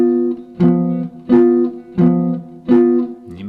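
A two-note guitar interval struck repeatedly in an even rhythm, five times, each chord ringing briefly before the next, loud and close.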